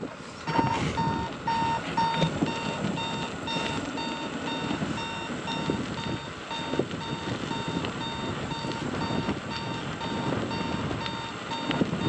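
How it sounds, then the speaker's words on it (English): An electronic pod on a combat robot beeps repeatedly, a steady pattern of thin tones over a low background rumble. "Darkness pod is beeping."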